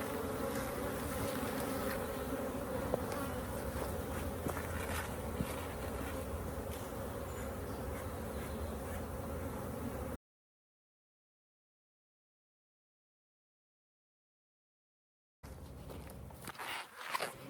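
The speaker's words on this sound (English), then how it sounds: "So I'm gonna try to get the rest of the bees off here." Honey bees buzz steadily and close during a July hive inspection while frames of honey are cleared, a dense continuous hum with occasional knocks, then silence and a brief return of buzzing with handling noise.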